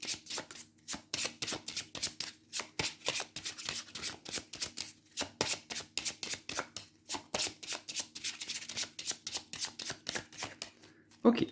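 A Lost Forest card deck is shuffled by hand: quick, rhythmic riffling bursts of crisp card slaps repeat steadily and close up, with a brief louder knock at the very end.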